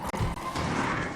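An impact grenade in a video game bursts with a short, heavy crash and a quick whooshing tail, close and loud in a single hit.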